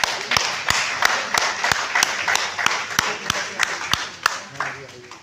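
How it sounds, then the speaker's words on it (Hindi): An audience applauds Vijay Jolly at a grand event marking film actor Dev Anand's 100th birth anniversary. Sharp, evenly spaced claps sound close and fairly loud, with voices talking underneath. "एक बार आप सब विजय जौली जी के लिए ताली दें"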